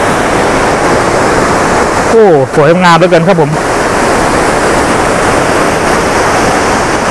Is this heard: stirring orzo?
no